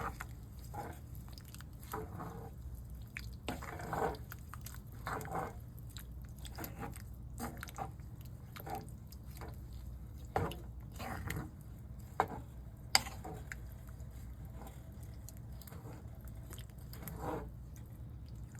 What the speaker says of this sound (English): So I'm just going to give it a stir, everything that's in here.